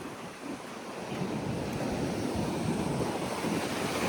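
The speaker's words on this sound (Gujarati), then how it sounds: "તમને દરિયાના મોજા તો સંભળાશે પણ પવન નહીં સંભળાય" Sea waves wash onto the shore under steady wind, a broad continuous roar of surf that swells slightly louder after the first second, with no voices.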